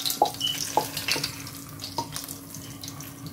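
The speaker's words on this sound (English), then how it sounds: "pour the sauce" Barbecue sauce pours steadily onto chicken with a soft wet, gurgling flow and a few small clicks, close by, with no one talking.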